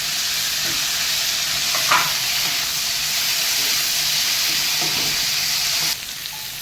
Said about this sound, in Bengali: তো ডুমুরটা আমার হাফ ভাজা হচ্ছে